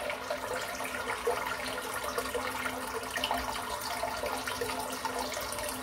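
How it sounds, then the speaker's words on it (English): Hot water runs from a tap into a filling sink, a steady loud splashing rush that continues without pause and without anyone talking over it. "let's fill the sink up at the same time"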